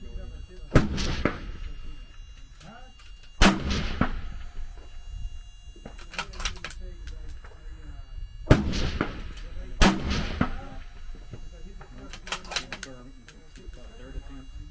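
Six Dendi ARC precision rifle shots at a 1,000-yard precision rifle match, loud sharp cracks spaced unevenly across the clip, each trailing into a long echo, with people talking between shots.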